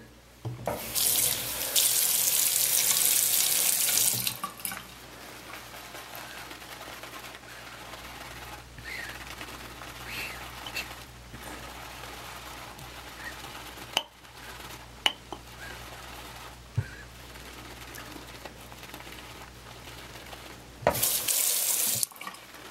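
A tap runs hard into a sink while Lebelle shaving soap is worked into a lather, a loud rushing flow at the start that falls away to quiet brushing and returns briefly at the end.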